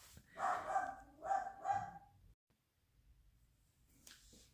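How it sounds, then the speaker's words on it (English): A dog barks three times in quick succession, fairly close and moderately loud, then falls quiet with faint background noise and a small sound near the end. "I apologize for the dog barking"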